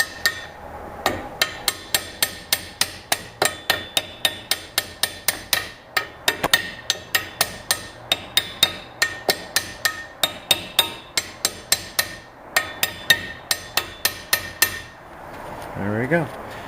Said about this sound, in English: Tap this back in.